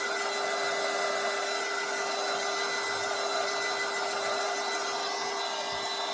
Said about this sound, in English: So I'm just using my heat tool to dry it real quick.